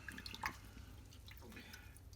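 Rinsing a drink dispenser nozzle brings close, soft water splashes and drips, with one sharper splash early and a quieter trickle afterwards.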